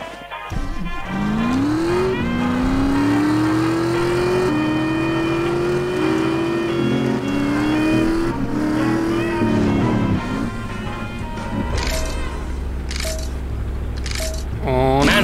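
Race cars revving and pulling away at the start of a smuggling race in The Saboteur, engines climbing in stepped gear-shift whines over a steady roar, with tire squeal and clattering near the end.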